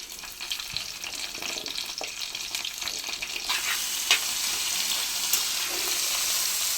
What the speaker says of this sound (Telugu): చక్కగా వేగిపోయిన దాంట్లో ఇప్పుడు నేను దొండకాయ ముక్కలు వేసుకుని